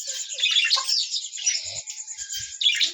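Budgerigars chirp and twitter rapidly in a dense, overlapping chorus, loud and close, with a few faint knocks in the background and no voices.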